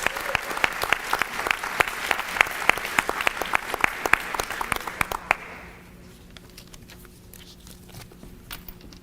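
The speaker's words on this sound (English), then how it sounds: "Let's give one more round of applause for our Tarboro High School welcome students" Audience at a school board meeting and awards evening applauds students with dense, loud clapping that fades out after about five seconds, leaving a few scattered claps in a quiet room.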